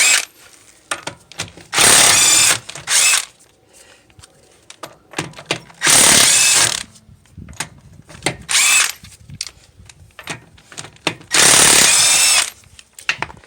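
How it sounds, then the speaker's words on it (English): Impact gun with a 21mm socket loosening rear wheel nuts on a 2014 Nissan Altima, three loud bursts of whirring and hammering separated by quieter clatter and handling noises. "I'm going to be using a 21mm socket with my impact gun"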